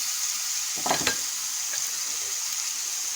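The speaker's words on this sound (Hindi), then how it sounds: "इसमें अब मैं टमाटर डाल दूंगी जो काट के रखे हुए थे। 3 टमाटर थे ये हमारे, ये मैंने ऐड कर दिया और इसको हम अच्छी तरह से फ्राई करेंगे।" Chopped tomatoes frying with chicken in a hot pan give a steady, loud sizzle, with a brief stir or clatter near the middle and no voices.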